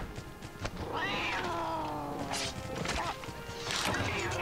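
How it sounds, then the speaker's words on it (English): Angry cats in the Monster Hunter Tri video game yowl and caterwaul in rising, wavering cries, mixed with a few sharp thwacking hits, loud and continuous throughout. "You can hear the cats going apeshit."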